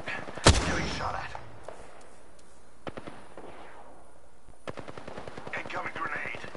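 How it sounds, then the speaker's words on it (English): Gunfire in the video game Apex Legends: a single loud shot opens, scattered reports follow, then a rapid automatic burst near the end, with a voice speaking in between. "Getting shot at."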